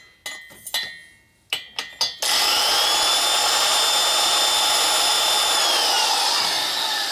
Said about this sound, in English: These are fairly hard seats, so they grind slow.